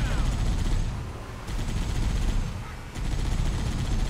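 Gunfire from an allied character in the video game Halo: Combat Evolved, a dense, continuous burst of rapid shots that stays loud throughout and dips briefly twice before resuming.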